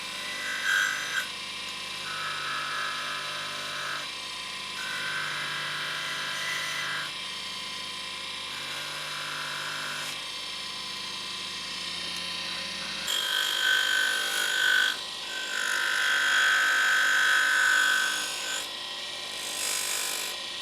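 A lighter found in the sea is rubbed to remove scratches, giving repeated rasping strokes in bursts, fairly close, over a steady background hum.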